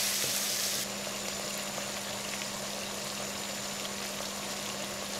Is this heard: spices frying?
yes